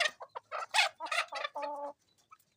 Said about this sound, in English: So me, I have like 18 chickens here.